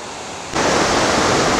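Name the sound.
waterfall tier above swimming pool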